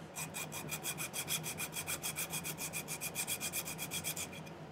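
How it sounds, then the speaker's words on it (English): A hand file worked in quick, even back-and-forth strokes across silver sheet to flatten it for a turquoise ring, about twenty rasping passes, close and fairly quiet, with no talking. "I'll file it sort of flat."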